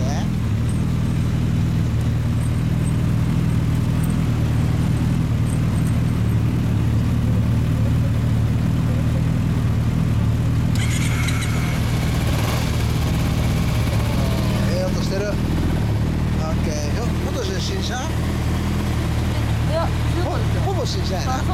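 A nearly new Kawasaki Ninja 250 runs steadily nearby, a continuous mid-pitched engine drone with a slight swell midway, while people chat over it.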